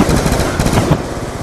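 Rapid automatic gunfire from the Mustang and Sally weapon in Black Ops 2 Zombies Grief on Cell Block, a loud dense burst of shots lasting about a second and a half with no voices.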